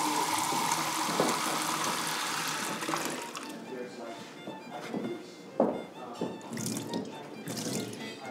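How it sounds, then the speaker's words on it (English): Water poured from a cup over the hands during a Shabbat ritual handwashing, a steady splashing stream near the microphone that breaks into a few separate pours and drips, with a voice faintly present. "we hold it with your left hand and pour it onto your right hand twice"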